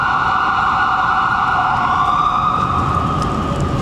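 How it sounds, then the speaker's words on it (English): An ambulance siren wails on a Boston street, a loud sustained tone sweeping slowly against low traffic rumble, continuous and fairly close. "Oh, it's ambulance."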